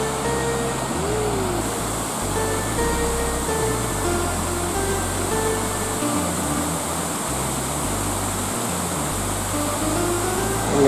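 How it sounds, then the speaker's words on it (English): A small waterfall near Koyasan in Japan, a loud continuous rushing hiss of falling water heard close, steady throughout, with a faint low hum underneath. "A little waterfall."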